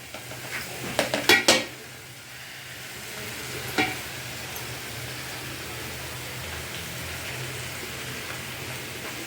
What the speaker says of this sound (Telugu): ఇప్పుడు నేను చేపలు వేసేస్తున్నాను